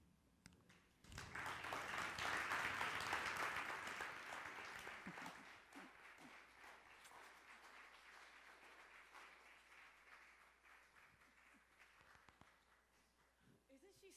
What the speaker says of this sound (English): Yes, please give her another round of applause, please.